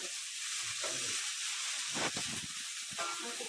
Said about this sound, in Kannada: ಫ್ರೈ ಮಾಡ್ತೀವಿ